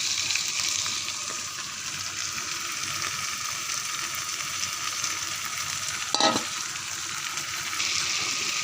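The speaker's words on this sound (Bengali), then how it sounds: "এবার আমি মাংসগুলো ভালো করে নেড়ে নেব কষিয়ে নেব ভালো করে" Meat is stirred and fried in a pan, a dense steady sizzle heard up close with faint spatula scraping and one sharp clatter partway through, no voices over it.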